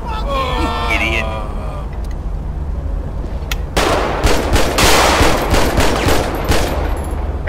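Gunfire from a police patrol scenario in the video game GTA V, with several loud shots and bursts from about the four-second mark, over a steady engine hum. Speech from earlier in the clip carries under the noise.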